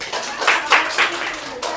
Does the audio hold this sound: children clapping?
yes